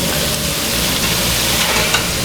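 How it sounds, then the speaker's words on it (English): A steak sizzles loudly and steadily on a flat top grill at a steakhouse, a close, continuous hiss with faint crackles and no voices. "We're going to cook it on our flat top grill with some au jus"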